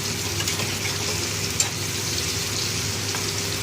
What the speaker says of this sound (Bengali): টমেটো সবসময় আমি এই একটু নাড়াচাড়া করে নিই গরম তেলের উপরে